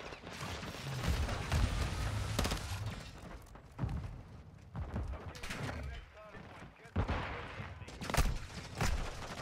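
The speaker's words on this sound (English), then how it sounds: "Look at that, another sentry turret." Sentry turret gunfire in a shooter video game, heard as bursts of rapid shots and thuds mixed with a speaking voice throughout.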